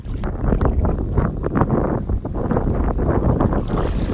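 Wind gusts buffeting the microphone while kayaking on a lake in Northern Ontario, a continuous close, loud low rumble with fluctuating surges and no talking.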